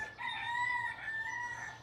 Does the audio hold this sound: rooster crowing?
yes